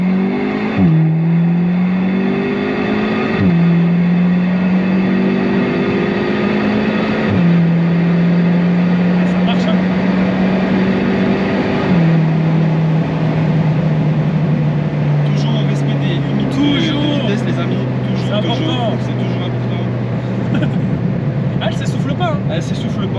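A tuned Audi S3 8V at Stage 1 pulls hard in sport mode on a straight, its engine note rising through the gears with brief dips at each shift, loud and close from inside the cabin while people talk over it.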